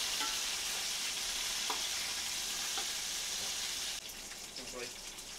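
Mutton pulao ingredients are stirred in a pot, giving a steady sizzle with faint scraping clinks of a spoon, close by; the sizzle drops slightly partway through.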